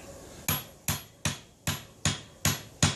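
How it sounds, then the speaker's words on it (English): A hammer taps a wedge down into a new wooden hammer handle, giving seven sharp, evenly spaced strikes about every 0.4 seconds, each loud and close with a quick decay. "You got to hit square, straight down, drive it into the hammer handle."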